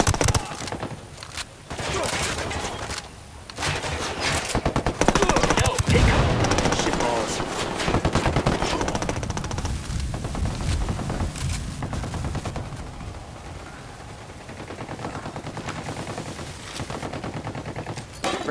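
Sustained bursts of automatic gunfire ring out in a Ghost Recon Wildlands firefight at La Santera's Chapel, Espirito Santo, loud and dense with brief pauses between volleys, tailing off into scattered shots near the end.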